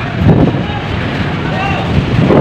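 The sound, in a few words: wind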